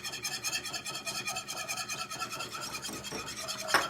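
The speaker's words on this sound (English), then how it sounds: "quickly whisk in the sweetener and binder." A metal whisk scrapes rhythmically around a nonstick pan, stirring sweetener and binder for peanut butter bars, a soft continuous rasping close by with a brief clink near the end.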